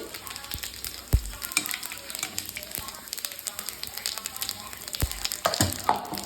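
Bay leaf and cumin seeds dropped into hot oil left from frying fish, a loud crackling sizzle with sharp pops and spits, steady frying hiss throughout at close range.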